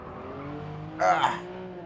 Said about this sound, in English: that is some hard braking right there